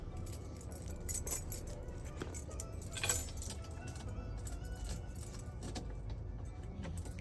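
A ring of keys jangles and clinks in short bursts while someone searches for the right one beside an LS-swapped donk car, metallic rattles over a low steady rumble, close by.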